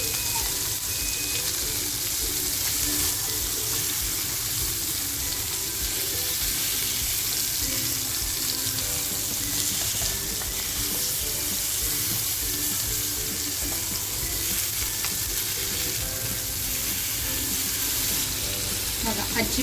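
Sardines (tarli) sizzle and fry in a pan, a steady, loud crackling hiss that runs unbroken throughout, with a few faint clinks beneath.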